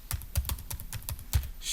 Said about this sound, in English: type my name and then my email address